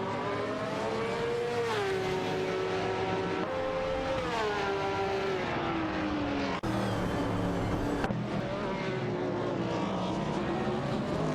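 Race cars in a racing video game roar past with rising and falling engine pitch, several gear shifts and sweeping pass-bys, loud and continuous.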